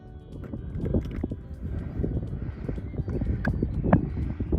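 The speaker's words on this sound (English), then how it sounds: "Oh, good horse and good Han." A loose horse moves about outdoors, its hooves clip-clopping in an irregular stream of close, moderately loud knocks over rustling background noise, with a possible neigh.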